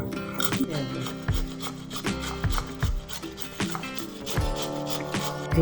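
Peeled green papaya rubbed against a grater, giving repeated rhythmic rasping strokes that are steady and close, with no voice over them.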